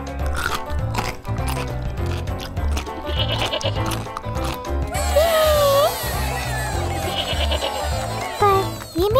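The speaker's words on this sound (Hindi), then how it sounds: "ये बकरी है।" Goat bleats ring out over a busy background of music and chatter, with several wavering cries clustered in the second half.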